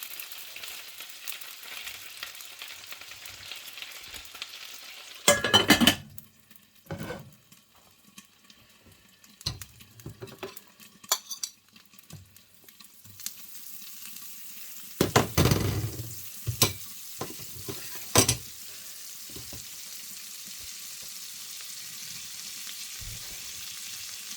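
Swedish meatballs frying in a pan make a low crackling sizzle, broken by loud bursts of stirring and clattering of a spoon and lid, with quieter gaps between.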